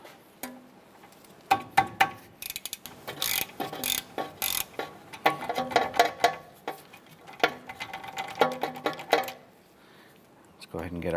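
A ratchet works loose two 10mm ABS sensor bolts at the back of a wheel hub on a 2008-2012 Honda Accord, giving bursts of quick metallic clicking and clinking between pauses, close and fairly loud.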